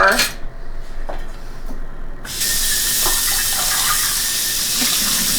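A dish gets washed under a running kitchen tap, a steady close rush of water joined by light clinks and clatter of dishware, with a few brief voices over it.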